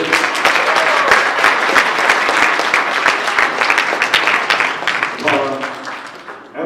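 Audience at a comedy showdown try-out during LVL UP Expo 2019 breaks into loud, sustained applause for a comedian, dense clapping that fades toward the end as voices start talking.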